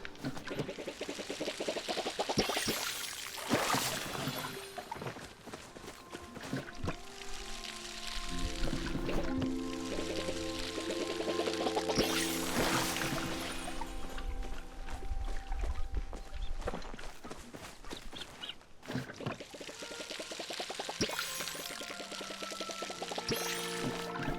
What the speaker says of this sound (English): Gonna water all my plants.